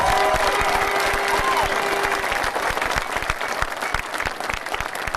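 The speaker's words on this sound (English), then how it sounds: "I'd like to give them a big round of applause for the help that they got" An audience at a county final celebration breaks into sustained applause, dense rapid clapping filling the room while a voice trails off at the start, the claps thinning slightly toward the end.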